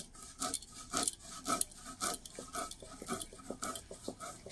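Soaked rice, two kinds including parboiled, is ground into a coarse paste on a flat grinding stone (shil), giving a rhythmic rasping, scraping sound with repeated strokes, close and fairly quiet.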